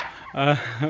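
A Kairali chicken in a backyard poultry setting gives a brief two-part cluck, the first note stronger and the second trailing off, close by over a quiet backdrop.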